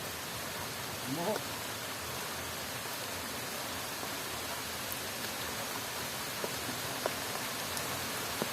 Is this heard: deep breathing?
no